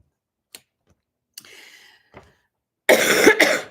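A few faint clicks and a brief rasp, then one loud close cough near the end, in an otherwise quiet room.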